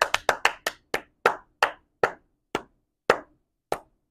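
Single hand claps, close and crisp, starting quick and evenly spaced then gradually spreading farther apart, about a dozen claps in all with silence between.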